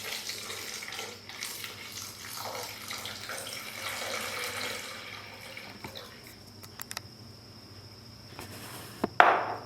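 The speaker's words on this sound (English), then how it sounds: "and then I'm going to add my milk" Milk pours into a smoothie mix as a soft, splashing liquid stream for a few seconds, close and fairly quiet, followed by faint handling clicks and a sharp knock near the end.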